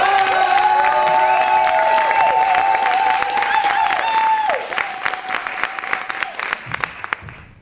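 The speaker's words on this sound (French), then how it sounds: "on peut applaudir très fort Samuel et Adrien qui sont à la régie" Audience at an improv show in Nancy applauding the sound technicians, dense sustained clapping and cheering that thins out near the end, with voices and a pitched tone over it.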